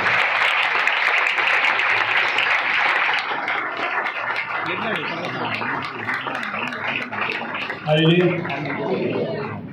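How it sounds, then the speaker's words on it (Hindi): Church congregation applauding to welcome the pastor, a broad wash of clapping in the opening seconds that then gives way to someone talking loudly over a fading crowd. "आप सबकी भरपूर तालियों में मैं खुदावंद के खादम को, पास्टर शाहिद को दावत देता हूँ"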